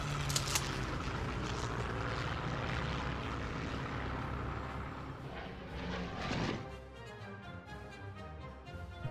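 Aircraft engines droning steadily during an airborne assault in the strategy game Hearts of Iron III, a loud continuous propeller roar that eases slightly toward the end.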